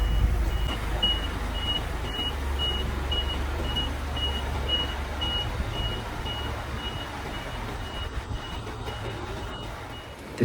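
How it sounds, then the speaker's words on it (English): Trucks arrive at a koi farm, a steady reversing beep repeating over a low engine rumble throughout. "Back at the farm, the trucks arrive one by one."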